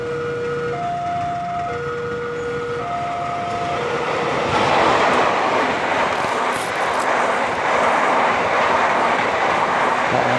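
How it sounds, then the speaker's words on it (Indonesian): KA Pasundan passenger train coming from the east and passing fast over level crossing JPL 725 at Nyamplong: a loud, steady rolling roar that swells midway, with warning-bell tones sounding near the start. "Dari arah timur KA Pasundan akan melintas cepat di JPL"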